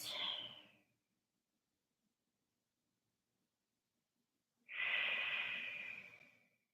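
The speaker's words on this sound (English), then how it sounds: "Breathe across the chest." Two slow, deep breaths during a yin yoga session, one at the start and a longer one near the end, close and soft with silence between them.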